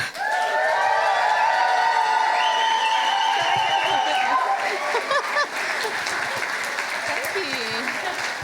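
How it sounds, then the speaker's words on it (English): Loud, sustained applause and cheering from a live audience at a Nerd Nite lecture event, with whoops and shouts rising over dense clapping that stays strong throughout before easing slightly near the end. "give her a big round of applause"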